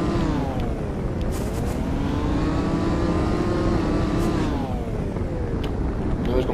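A motorbike engine in the video game Snow revs and drones, its pitch rising, falling and climbing again over several seconds, a continuous buzzing whine heard close with some background noise.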